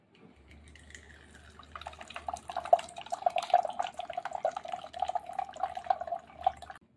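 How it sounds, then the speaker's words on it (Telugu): Hot water is poured over tamarind in a bowl, starting with a thin trickle that builds into a splashing, dripping stream close by, with no talk. "నేనైతే ఇక్కడ హాట్ వాటర్ యాడ్ చేస్తున్నాను"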